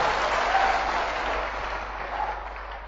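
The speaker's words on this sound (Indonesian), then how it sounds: "Tepuk tangan untuk para operator." Audience applause for the operators at a business seminar, a short, dense burst of clapping from a crowd, steady and fairly loud, with a low hum underneath.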